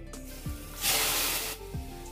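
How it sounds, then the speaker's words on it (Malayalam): Prawns are dropped into a heated pan, setting off a sudden, close hiss that lasts under a second amid quieter kitchen sounds, with no voices. "ഇതിലേക്ക് നമുക്ക് ചെമ്മീൻ ഇട്ട് കൊടുക്കാം."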